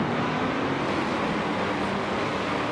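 A race car in Forza Motorsport 7 runs flat out around the Golden Gates track at Infineon Raceway, a steady dense engine and road roar with no breaks.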